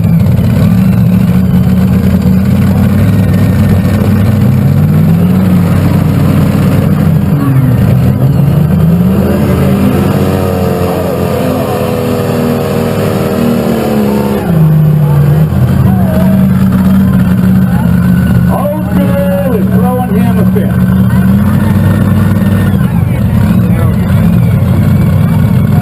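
A big Hemi-engined tractor roars loud and close at a tractor pull, its engine pitch rising, falling and rising again across the pull, while an announcer talks over the PA.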